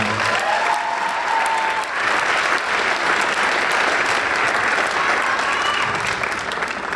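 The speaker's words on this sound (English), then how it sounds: "one more round of applause for the percussion team" A high school spring concert audience gives the percussion team a sustained round of applause, dense clapping filling the hall steadily for several seconds.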